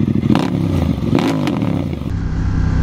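A stock sport motorcycle's engine runs close and loud with a steady throaty drone and a few sharp revving surges, alone without talk.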